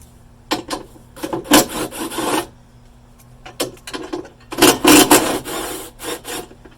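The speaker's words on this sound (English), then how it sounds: "and then we're going to take this cover off" Plastic interior trim cover being pried and scraped loose on a B8.5 Audi S4 during a battery install, with bursts of rasping, rubbing friction and clicks separated by short pauses, close and fairly loud with no talking.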